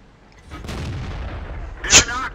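A Soviet T-43 medium tank's main gun fires in World of Tanks, one loud close boom with a rumbling tail, followed by a sharp metallic impact crack.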